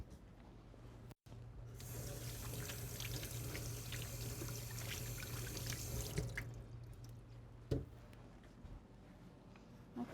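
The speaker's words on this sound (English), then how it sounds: "I'm just going to wash my hands really quick" Tap water runs steadily into a sink during handwashing in a home kitchen, a continuous broadband splash lasting several seconds with a brief clatter near the end.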